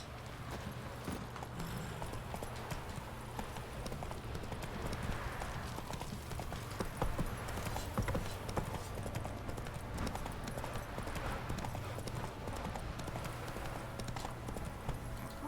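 Horse hooves clip-clopping at a steady gallop in the Witcher 3 video game, a continuous rhythmic beat under a constant low game ambience with no talking.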